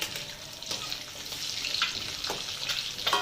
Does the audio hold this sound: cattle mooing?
no